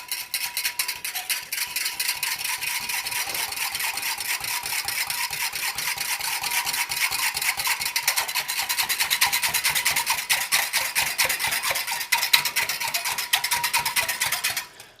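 Rapid, rhythmic scraping strokes as a whisk stirs fish fertilizer into water, close and steady for a long stretch.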